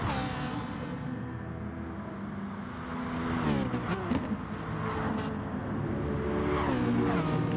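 Several race cars in a sim racing endurance championship battle closely on track, one large Citroen holding up a pack, with steady engine drone and rising and falling revs as the cars jostle, continuous and fairly loud.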